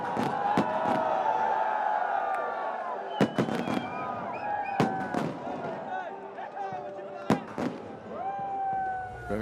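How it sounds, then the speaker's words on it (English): Fireworks burst over the Zohar Ahmed Chaudhry Cricket Stadium during a Bangladesh Premier League match between Khulna Tigers and Comilla Victorians. A series of sharp, irregular bangs cracks over a steady crowd roar, with a voice talking throughout. "as the fireworks go off here in the sky of the Zohar Ahmed Chaudhry Cricket Stadium"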